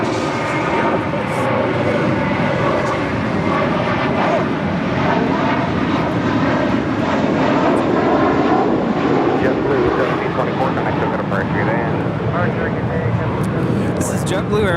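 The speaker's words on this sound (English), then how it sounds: "This is JetBlue Airways 1724 departing to JFK on an A321." A JetBlue Airbus A321 departs LAX, its engines giving a loud, continuous roar that holds steady throughout, with voices talking underneath the engine noise.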